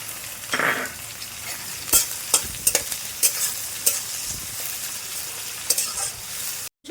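Garlic and onion greens sizzle softly in hot oil while a spoon stirs and scrapes the pan in irregular bursts, close by, with no talking.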